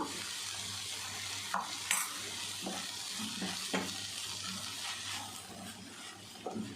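Spinach greens sautéing in a pan, a steady close sizzle and hiss with occasional scraping stirs and light clinks of the spatula, no voices.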